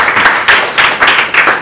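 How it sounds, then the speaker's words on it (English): Applause from an audience at an exhibition talk, with bursts of clapping rising and easing in uneven waves, fairly close and moderately loud, with no voices over it. "So I think that deserves a round of applause."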